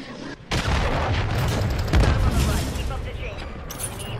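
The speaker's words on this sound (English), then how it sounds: "Hostile cruise missile incoming." Cruise missile strike explosions in Modern Warfare 3 erupt in loud, sustained booms mixed with crackling gunfire that roll on for several seconds, with voices blended into the din.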